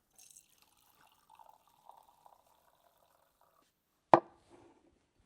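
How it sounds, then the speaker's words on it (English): Milk pudding poured from a pot through a strainer into a glass jar: soft intermittent trickling and dribbling, then one sharp clink of the pan or strainer against the jar and a brief splash, close and quiet. "First jar, strainer on top, and let's pour this in."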